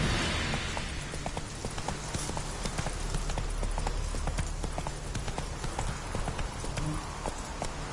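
Roach, a horse in The Witcher 3, trots in a quick, even clip-clop of hooves over steady ambient game sound, with brief talk in between.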